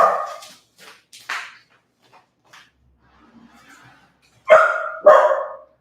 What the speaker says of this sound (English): These are my doggies.